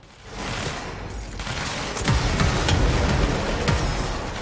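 Explosions and gunfire in the action video game Control, a dense rumbling barrage of blasts and rapid shots that swells louder midway and keeps pounding to the end.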